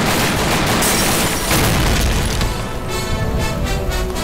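Police officers open fire in an action film, and loud bursts of gunfire and booming impacts crowd together in a dense, chaotic barrage that carries on for several seconds with no talk.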